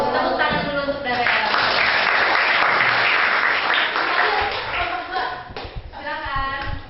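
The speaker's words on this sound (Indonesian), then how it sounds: "Tepuk tangan dulu untuk Darel." A crowd claps together for several seconds, a dense steady round of applause mixed with a few voices, thinning out near the end.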